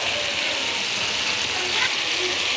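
Masala frying in oil for aloo bharta, a continuous bright sizzle with occasional stirring scrapes, close and steady throughout.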